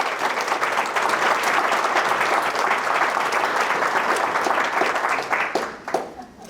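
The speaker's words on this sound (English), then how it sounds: "Yeah, and applause." Lecture audience applauding after a talk, a full, close burst of clapping that runs steadily before thinning out near the end, with a few scattered claps and a voice as it fades.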